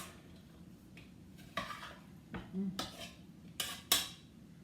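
Utensils scrape and clink against a bowl as a farro salad with fresh vegetables is stirred, a few irregular knocks and scrapes that are close and fairly quiet, with no talking.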